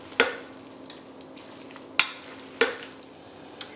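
Bread pudding mixture with chunks of butternut squash being gently stirred in a bowl, giving soft scraping strokes with a few sharper clinks spaced about half a second to a second apart, close and fairly quiet.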